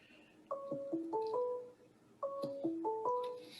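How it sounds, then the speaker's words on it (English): Series of stepped tonal beeps in two quick bursts of about six tones each, like a phone number being dialed on a call, moderately loud with no voices over it. "Is that a phone call?"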